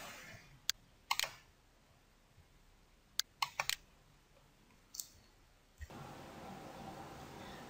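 Several sharp mouse clicks at irregular intervals, crisp and close, as the Go to Next Round button is pressed in a Money Manager decision-making program, with quiet room tone between clicks.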